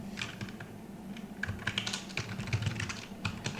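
Steady typing on a computer keyboard while writing CSS code, a dense run of quick, close key clicks with irregular rhythm and no talking.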